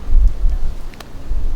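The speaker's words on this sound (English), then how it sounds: "it's so freaking windy" Strong wind buffets a microphone outdoors, a steady low roar that swells and eases slightly over a second and a half, with no voices.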